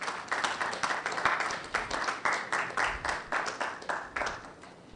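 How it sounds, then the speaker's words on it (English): Applause from an audience welcoming a public relations manager at a quiz competition launch event, a steady burst of many hands clapping in a regular pulsing rhythm, moderately distant and fading slightly at the end. "Let's welcome him with a round of applause."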